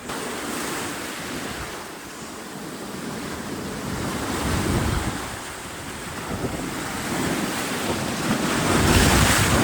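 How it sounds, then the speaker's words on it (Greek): Strong ocean waves surge and break near a sea cave on the Colombian coast by Tayrona park, a loud, continuous roar of surf swelling in pulses, mixed with gusty wind buffeting the microphone, with no voices. "Τα κύματα έρχονται αρκετά ορμητικά"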